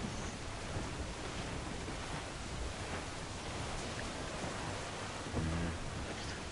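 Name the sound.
rain and thunder in Assassin's Creed 4 Black Flag video game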